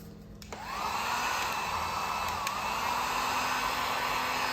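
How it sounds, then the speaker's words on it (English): A heat gun switches on and blows steadily while heating a spliced wiring connection in a Mk4 GLI engine bay, a close, continuous whooshing hum with a faint high whine, running alone. "you're just gonna grab your heat gun"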